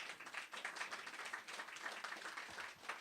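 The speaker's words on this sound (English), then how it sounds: "big, big round of applause" A crowd at the Black River Day 2024 event applauds together, with dense, sustained clapping at moderate loudness that carries on through the whole stretch, with no voice over it.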